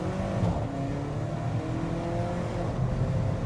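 An Alfa Romeo 4C on worn tyres accelerating and sliding sideways, a loud continuous engine roar with a steady low drone, heard close and unbroken.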